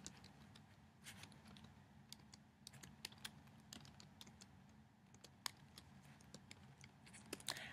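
Rapid, steady typing on a computer keyboard as a file name is entered: a close, quiet run of crisp key clicks with brief pauses and no voices.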